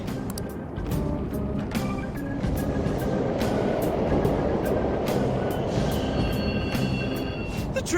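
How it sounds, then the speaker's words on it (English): Subway trains rumble through an underground station in the video game Persona 5 Royal, a continuous low rolling roar with rhythmic wheel clacks and faint high squeals, building slightly and holding steady, with no speech. "The trains are totally running!"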